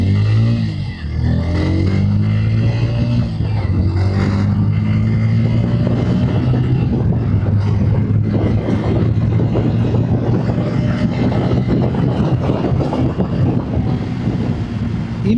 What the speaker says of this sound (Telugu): ఇక్కడ నుంచి ఒకసారి ఈ బైక్ని డ్రాగ్ చేద్దాం